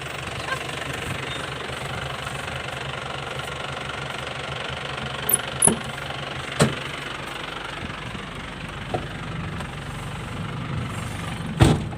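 Grass cutter engine running steadily near the listener, a constant mid-pitched drone with knocking roughness and a few sharp clicks, under faint background voices.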